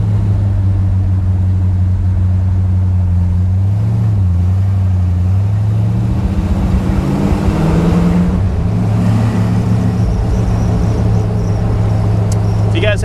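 A 1986 Jeep CJ7 with a brand new carburetor idles steadily up close, its loud low engine rumble running continuously with a slight rise in the middle, a voice faintly under it.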